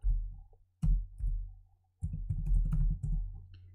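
Fingers type on a computer keyboard during work at a computer, with bursts of clicky keystrokes separated by short pauses. The keys sound close and crisp, and nobody speaks.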